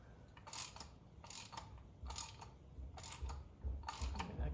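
A ratchet snugs down the bolt on a C4 Corvette IAC valve, quiet bursts of rapid clicking repeated about five times in a regular rhythm, close by and faint with no talk.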